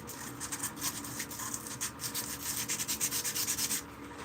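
Sanding a hand-forged spoon: steady, gritty rubbing strokes that speed into a quick, even back-and-forth rhythm, close and moderately quiet, with no voices over it.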